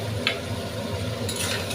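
Chili powder and spice masala stir-frying in a pan, a steady low sizzle with a couple of brief scraping stirs of the spatula.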